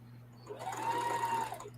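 Sewing machine quilting a quilt, a steady short whirring run that rises, holds and stops, close and fairly quiet over a low constant hum.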